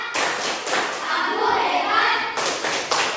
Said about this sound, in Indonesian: mari kita tepuk tangan anak hebat dulu ya